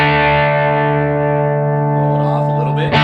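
A sustained, distorted electric guitar chord through a Catalinbread Dirty Little Secret MK II overdrive pedal rings out loud and steady, thick with overdrive, then fades as a brief pick scrape cuts in at the end.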